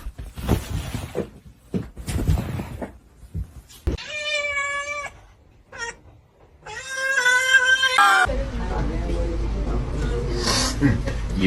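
Kitten meowing indoors: several short drawn-out meows with clear harmonic tones, mixed with brief rustles and someone talking, ending in a steady rumbling background noise.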